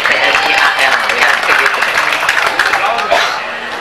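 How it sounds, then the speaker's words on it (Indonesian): A crowd of students gives loud, dense, continuous applause that fades slightly toward the end, with some speech and chatter mixed in. "tepuk tangan dulu ya semuanya untuk PSIAL ya"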